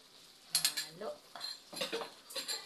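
Tomato, garlic and ginger being stirred in a pot for chicken biryani, with a few soft clinks and scrapes of a utensil against metal and faint sizzling underneath, the stirring coming in short irregular bursts.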